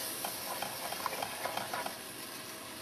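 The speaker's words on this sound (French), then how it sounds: "on va remuer toujours énergiquement pour obtenir un mélange homogène" A spoon stirs flour into Pinot Noir red wine for boeuf bourguignon, soft scraping clicks against the pan in a quick irregular rhythm, faint beneath a steady background hiss.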